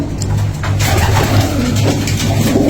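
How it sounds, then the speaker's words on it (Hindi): Pigeons coo on a rooftop where pairs are kept for the hot season, their soft throaty calls repeating close and loud over faint background noise. "पिछले साल के जोड़े हुए कबूतर हैं"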